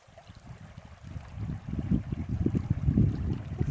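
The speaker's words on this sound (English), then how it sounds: "I put my boots on so that I could come out and stand in the creek" A cold, rocky creek flows and trickles around boots standing in the water, a close, steady burbling that grows gradually louder and busier with small splashes.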